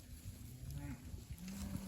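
Cattle lowing on a well-rested grazing pasture, a short run of moos close by with a steady low background murmur.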